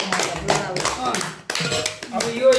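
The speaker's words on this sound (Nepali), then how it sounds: "धेरै ताली सबजनालाई ताली" A family gathering for a gift unboxing breaks into several short bursts of hand clapping, each a second or less, close by and mixed with people talking.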